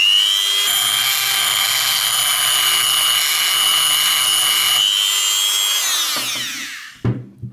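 A power saw grinds into a steel hammer with a steady high-pitched whine for several seconds, then winds down, followed by a couple of brief clanks.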